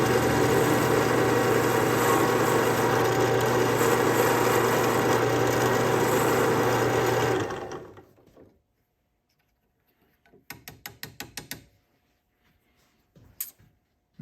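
A drill press whirs loudly and steadily while boring a counterbore in knife handle scale material, then spins down and stops, followed by a few brief clicks and rattles.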